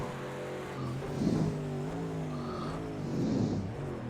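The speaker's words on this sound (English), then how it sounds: "I cannot ever get enough of that engine roar" A race car engine roars around a twisty circuit in a racing video game, its loud harmonic whine climbing and dropping through gear changes and corners, close and alone with no talking.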